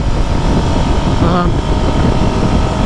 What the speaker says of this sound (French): Lorsqu'on accélère, l'accélération est très progressive et la moto se comporte extrêmement bien sur la route.